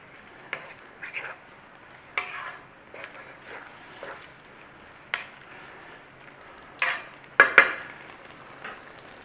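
Corn being stirred through a frying pan of lasagna filling: scattered light scrapes and clinks of a utensil against the pan over a soft sizzle, with a few louder scrapes near the end.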